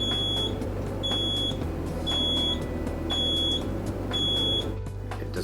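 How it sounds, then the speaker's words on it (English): Low-water warning beep of a Quick Mill Andreja Premium espresso machine: five evenly spaced electronic beeps about a second apart, fairly clear over a steady low hum from the machine. "One activates a low audible beep when you begin to run low on water."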